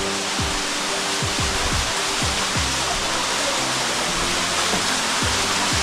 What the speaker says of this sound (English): Catch this other waterfall here.